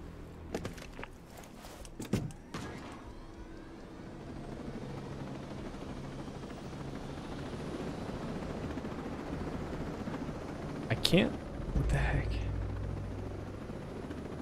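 Helicopter in the video game Ghost Recon Breakpoint, a steady rotor and engine drone running throughout at moderate level, with scattered footsteps and brief clatter near the start and a louder burst around the eleven-second mark.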